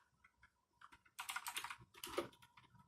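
Quick bursts of key clicks as a console command is typed on a computer keyboard while setting up a Quake 1 NavySeals mod LAN server. The taps are close and fairly quiet, with a sparse start and then a denser run of strokes.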